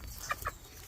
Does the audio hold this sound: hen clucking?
yes